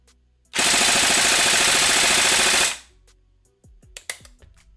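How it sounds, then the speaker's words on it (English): A Tokyo Marui AK Storm NGRS airsoft rifle fires one sustained full-auto burst of about two seconds, loud and close, followed by a few quieter single clicks and mechanical handling sounds. "Let's give it a quick test. Semi-auto first. Nice. And full auto."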